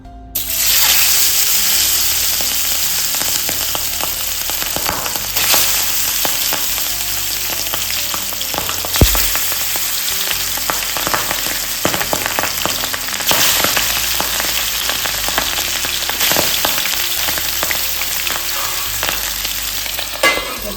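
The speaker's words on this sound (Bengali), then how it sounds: "বোয়াল মাছ বেশি ভাজবো না, কিন্তু বোয়াল মাছ বেশি ভাজলে খেতে ভালো লাগবে না। একটা একটা করে ছাড়বো।" Pieces of boal fish (wels catfish) sizzle and crackle steadily in hot oil in a pan over lowered gas flame, a loud continuous fry with scattered pops and occasional utensil clicks, no talking.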